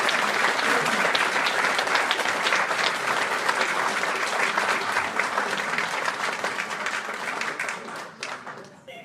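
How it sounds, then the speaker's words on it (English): Loud, sustained applause from a lecture audience, steady clapping that fills the room before thinning out toward the end. "Give Caroline a round of applause."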